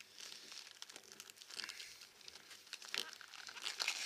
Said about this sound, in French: Donc j'enlève l'emballage.